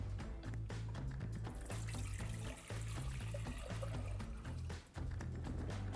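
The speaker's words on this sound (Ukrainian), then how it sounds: "Набираємо мірним глечиком" Water runs steadily into a measuring jug while a liter is collected in a home kitchen, a continuous splashing trickle with a low hum beneath and two brief dips in flow.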